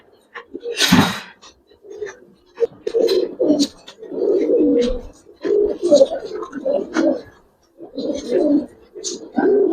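Silver Giribaz pigeons coo close by in repeated low, throaty bursts, one after another, with a sharp sneeze-like snort near the start and no talking.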